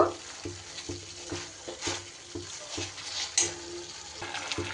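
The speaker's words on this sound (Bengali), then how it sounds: "খুব সুন্দর করে আমি কষিয়ে নেব।" Spices for a Bengali Katla fish curry sizzle and fry in a pan as milk is added, with repeated stirring strokes scraping through the thick masala in a steady rhythm, close and moderately loud.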